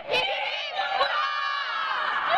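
A boys' team in a children's contest yells together, a loud chorus of young voices holding a sustained shout with a few sharper bursts.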